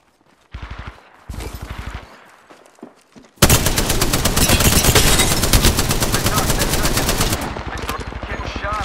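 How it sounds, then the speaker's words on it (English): Apex Legends video game gunfire: two short bursts of rapid automatic shots, then a long sustained stream of loud, fast repeating fire with no talking. "Shots fired, and they're hitting me."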